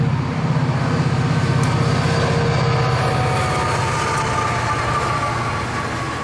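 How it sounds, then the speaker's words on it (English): A Q237 auto rack freight train with a trailing Canadian Pacific locomotive rolls by on the S-Line, a steady loud rumble and rhythmic clatter of rail cars running throughout. "It turned out that the train of the day was this Q237 auto rack job."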